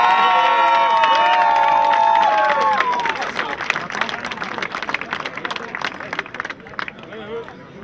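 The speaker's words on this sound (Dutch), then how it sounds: "Nog eens een daverend applaus voor de winst van A.A." A crowd applauds and cheers at an award ceremony for the Belgian Homeless Cup 2012, dense clapping building under a loud announcer's voice, then thinning into scattered claps with shouts.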